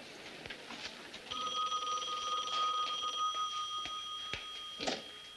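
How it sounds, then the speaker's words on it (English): An indoor telephone rings in a 1970s setting, a steady electric bell tone sounding continuously for several seconds amid faint background clicks and room noise. "Get Chrissy phone, will you?"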